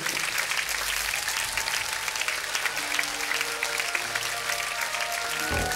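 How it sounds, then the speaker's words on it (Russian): Concert audience in a Kyiv hall applauds a solo singer, a dense, steady wash of clapping with faint tonal music underneath throughout. "Под ваши аплодисменты."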